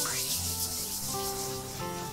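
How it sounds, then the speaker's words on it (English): A smooth tool slides firmly over an IOD transfer to burnish it onto a surface for a vintage Christmas gallery wall. The close, steady rubbing runs without pause over faint tonal music. "for that initial kind of burnish, because this slides nicely without tugging on that surface."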